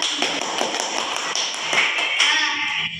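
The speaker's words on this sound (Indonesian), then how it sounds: "beri aplaus kepada" Indoors in a classroom, a group claps in a dense, fast burst of applause that stays loud and steady for a few seconds.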